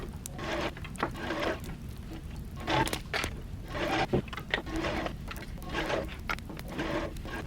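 Sewing machine top stitching pleats on a skirt panel, a steady continuous whirring hum with slight rhythmic variation, moderately close and running alone for several seconds.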